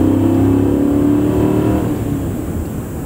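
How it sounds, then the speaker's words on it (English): A 5.6 liter V8 in an Infiniti QX56 revs loud and close, a deep throaty engine drone climbing in pitch and then easing off as the throttle settles. "if you punch it, it makes a wonderfully beautiful large V8 noise."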